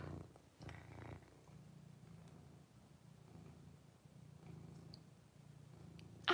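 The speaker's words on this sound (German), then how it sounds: "Ihr schaut, es schnurrt." A cat purring close up, a soft, low, continuous rumbling purr that holds steady for several seconds, with a brief rustle near the end.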